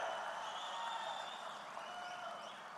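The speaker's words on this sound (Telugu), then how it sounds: "గట్టిగా చప్పట్లు కొట్టి హర్షాన్ని," A crowd at a TDP Mahanadu 2025 political rally claps and cheers together, a dense, distant-sounding wash of applause that holds steady for a few seconds and then eases slightly.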